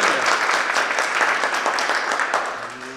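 A crowd applauds at a shooting match award ceremony, a loud, dense burst of clapping lasting about three seconds and fading slightly at the end.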